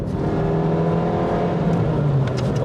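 A light sports car accelerating, its engine droning steadily and loudly from inside the cabin with a rising tone toward the end.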